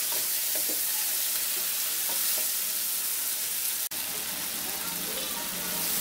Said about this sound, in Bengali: এখন এই মশলাটাকে একটু ভালো করে কষিয়ে নেব।